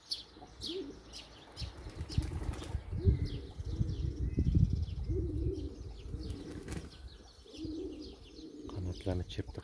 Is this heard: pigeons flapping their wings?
yes